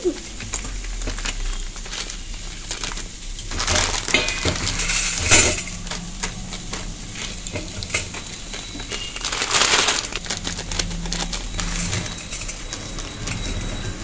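A block of Maggi instant noodles is snapped apart by hand, giving a run of dry, crisp cracks and crunches up close, coming in short bursts over a quiet kitchen background.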